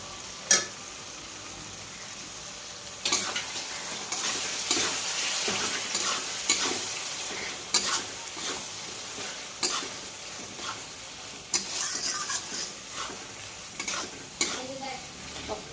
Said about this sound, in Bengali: এবার এই মশলাটা কষিয়ে নিয়েছি, তেল ছেড়ে দিয়েছে।